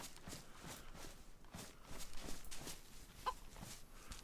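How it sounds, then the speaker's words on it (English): A chicken in a forest in the DayZ video game gives soft, faint clucks in an irregular rhythm, interspersed with light scratching or footstep sounds nearby. "What is this chicken doing in the middle of the forest?"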